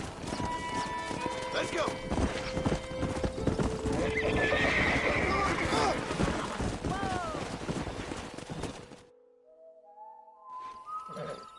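Horse in the Red Dead Redemption video game, with repeated clip-clopping hooves and a loud neigh amid busy outdoor game sounds, followed by a quieter stretch; someone speaks briefly.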